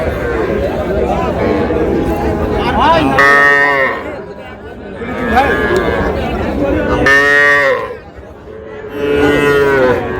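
Cattle at the Ambari livestock market, where small bulls and heifer calves are sold, give several loud, drawn-out moos in three bursts over steady crowd chatter and voices.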